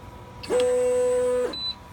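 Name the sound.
printer beeping while selecting calibration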